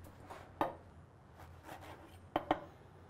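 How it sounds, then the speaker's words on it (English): A knife trimming slices of brioche, giving a few soft, sharp cutting taps and light scraping strokes, quiet and close, with no talking. "Now we're going to trim those slices down."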